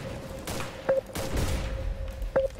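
Two sharp sniper rifle shots in CS:GO, about one and a half seconds apart, crack over a steady background hum with no talking.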